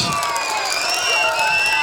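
Schoolchildren in an elementary school audience clap and cheer for a Karagöz and Hacivat shadow-puppet show, a loud, dense, steady wash of applause and youthful shouting.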